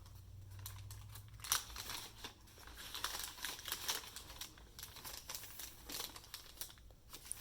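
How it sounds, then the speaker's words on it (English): Textured paper from a dollar store crinkles and rustles as it is handled near the microphone, in quiet, irregular bursts of crumpling with no talk. "And here's some more textured paper from Dollar Tree."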